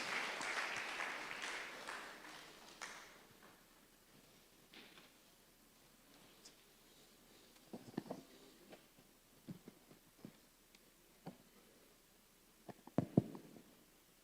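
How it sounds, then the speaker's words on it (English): An audience at a Nigerian health conference gives brief, faint applause for a speaker. The clapping fades within a couple of seconds, leaving a quiet room with scattered knocks and shuffling thumps. "A round of applause for Dr. Ayaike"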